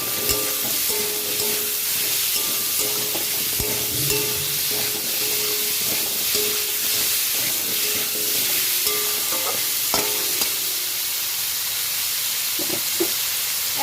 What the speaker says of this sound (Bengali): এর মধ্যেই কেটে রাখা আলুগুলো দিয়ে দেব। লবণ দিয়ে ভেজে নেব।